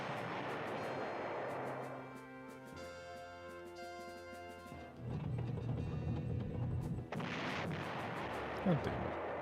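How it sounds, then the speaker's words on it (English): Artillery fire in the retro strategy game Panzer General: a muffled, rumbling barrage followed by mechanical clanking and a harsh blast near the end, all fairly faint. "I'm trying to clear a path with my artillery"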